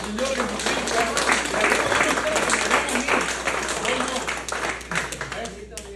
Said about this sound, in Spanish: denle fuerte el aplauso a nuestro Señor Jesucristo